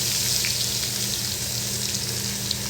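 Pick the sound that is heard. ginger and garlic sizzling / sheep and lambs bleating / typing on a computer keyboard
ginger and garlic sizzling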